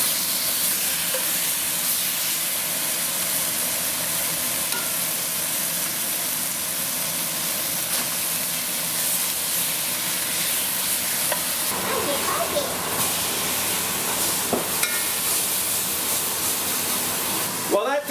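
Venison searing in a stew pot makes a loud, continuous hissing sizzle that runs throughout, with occasional clicks and knocks from the pot later on.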